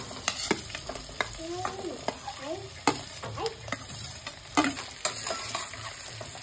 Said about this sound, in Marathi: उडदाची डाळ थोडीशी गोल्डन होत आली की मग आपल्याला याच्यामध्ये उकडलेले बटाटे घालायचे जे कुस्करून घेतलेले आहेत